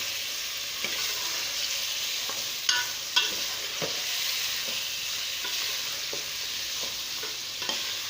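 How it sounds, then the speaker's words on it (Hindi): Mutton for aloo gosht sautéing over a high flame, a steady broad sizzle with occasional sharp scrapes and clinks of a stirring spoon against the pan, close and continuous with no talk. "फ्लेम हमने अभी तेज़ ही रखा है, हाई फ्लेम पे हम इसे भून रहे हैं"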